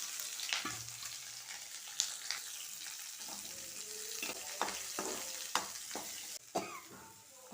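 Onion and green chili fry in a pan with mustard seeds, a quiet sizzle broken by several sharp stirring clanks and crackles, with a brief cough-like sound near the start.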